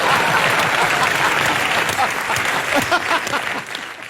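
A large audience claps loudly and steadily, a dense, continuous wash of applause that fades slightly toward the end, with a faint voice in the background.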